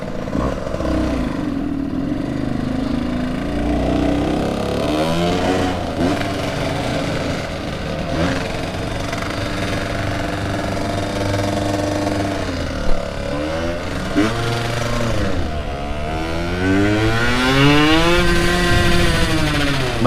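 A vintage Yamaha YSR50 two-stroke motorcycle revs repeatedly up close, its buzzy, high-pitched engine climbing and falling in several throttle blips over a persistent idle.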